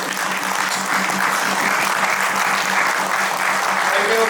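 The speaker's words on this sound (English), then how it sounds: "So we should give him a standing applause. This is a standing applause." Standing applause from a large audience at a company annual planning meet, a dense, steady wash of clapping that stays loud for the whole stretch with a faint hum underneath.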